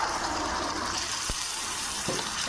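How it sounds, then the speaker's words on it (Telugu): Water poured from a glass into boti curry makes a steady, close gushing splash that runs without a break for a couple of seconds. "వాటర్ అయితే పోసుకున్నామండి"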